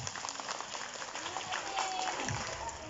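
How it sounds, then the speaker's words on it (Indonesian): An audience at an Islamic community study gathering applauds as dense, steady clapping, moderately loud and filling the room throughout. "Tepuk tangan dulu dong buat admin."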